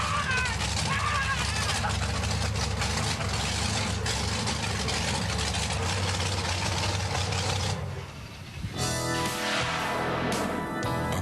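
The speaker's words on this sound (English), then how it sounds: "It's powered by a 540 cubic inch engine, all aluminum heads." Monster Patrol monster truck with a 540 cubic inch engine and all-aluminum heads, roaring loudly and steadily at close range, dipping briefly near the end before the rumble resumes, with voices faintly mixed in.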